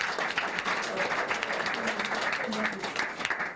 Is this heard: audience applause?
yes